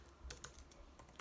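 Typing on a computer keyboard while coding a Discord moderation bot: a few quiet, crisp key clicks in quick succession, faint and close, with no speech.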